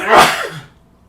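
One sharp, loud sneeze bursts out close by and fades fast into quiet, with no talking.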